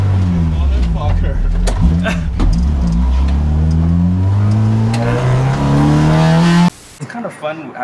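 A B16B-powered Honda Civic revs loud and close, the engine pitch climbing steadily through each gear in rising sweeps, then cutting off abruptly near the end as voices talk over it.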